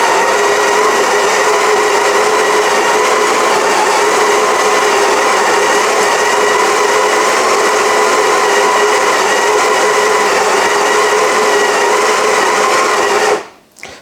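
A coffee grinder runs steadily, grinding medium dark roast espresso beans at grind size 4 for a double shot. It is a loud, continuous whirring drone lasting the whole grind and cutting off abruptly at the end.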